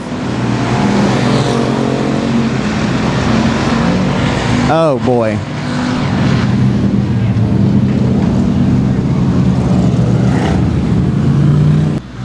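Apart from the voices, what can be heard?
factory stock race cars racing at Sabine Speedway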